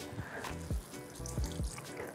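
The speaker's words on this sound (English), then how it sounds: "I'm gonna try to squeeze out as much water as I can now" Hot water squeezed out of baked cauliflower makes quiet wet splashes and trickles, a few soft dripping pulses close by against faint background hiss.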